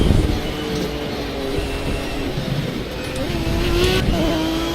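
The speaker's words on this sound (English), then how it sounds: "drifting an LMP1 car" An LMP1 prototype race car drifts in a racing video game, its engine droning steadily with shifting pitch as the revs rise and fall, tire noise faintly underneath, sustained and fairly loud throughout.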